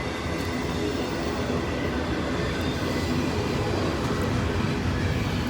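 A long freight train loaded with FedEx containers rolls past close by in Glendale, a steady, dense rumble of wheels and cars filling the scene without pause.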